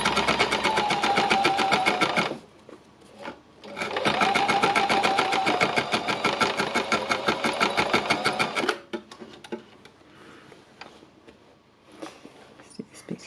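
An embellishing machine needles fabric in fast, even bursts of rapid mechanical chatter, close and loud, with a short pause, a second long run, then a quieter stretch of faint rustling and handling.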